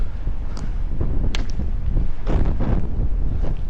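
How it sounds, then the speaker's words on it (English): Strong wind buffets the microphone at an exposed outdoor viewpoint, a loud, continuous low roar with gusty surges and rustling, close and dominant throughout. "Oh, a wee bit breezy."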